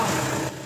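A Toyota Hilux engine runs at idle during brake bleeding work, a steady rumbling drone that drops slightly in level near the end of the short moment.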